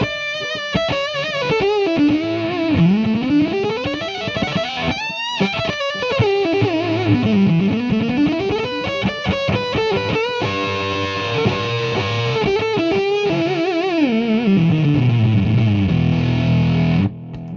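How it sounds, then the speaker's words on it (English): An electric guitar played through a Tomsline Firecream vintage distortion pedal set fairly high gives a thick, fuzz-like saturated tone, with sliding riffs and chords ringing continuously before cutting off abruptly at the end. "this sounds like a fuzz pedal"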